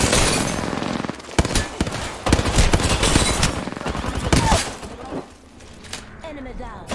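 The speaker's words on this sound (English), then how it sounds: "Opening fire." Rapid bursts of automatic gunfire in a battle-royale video game, sharp repeated shots in clusters over about five seconds, loud and close, then fading to quieter game sounds with speech mixed in.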